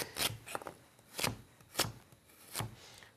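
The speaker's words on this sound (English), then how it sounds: "here we're going to start chopping up the aromatics, celery, carrots, and onions" A knife chops celery, carrots and onions on a cutting board in separate sharp strokes, irregularly spaced and fairly close, with no talking.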